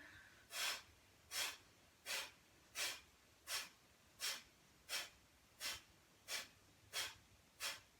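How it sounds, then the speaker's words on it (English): Bellows breathing during a yoga practice: eleven forceful, evenly spaced breaths, each a sharp rushing burst about every three quarters of a second, close and clear against a quiet room with no talk. "back to center, bellows breathing here"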